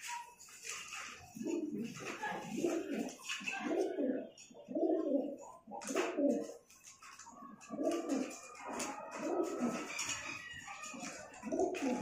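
Baby Teddy pigeons make soft, repeated cooing and grumbling calls in short, closely spaced bursts, quiet and near throughout.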